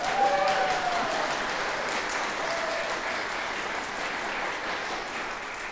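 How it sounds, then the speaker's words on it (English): Audience applause at a choir salon event, a soft, even patter of many hands clapping at a distance, steady and sustained throughout with a brief voice at the start. "That's a good applause."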